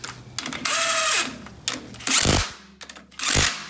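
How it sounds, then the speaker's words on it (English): A 7/16 wrench tightening a part on an engine being built, giving several short, loud, close metallic ratcheting bursts separated by brief pauses. "Use my wrench, 7/16 wrench, to put this on."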